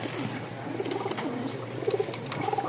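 Pigeons coo softly on a farm, low murmuring calls repeating over a steady background hiss of the coop.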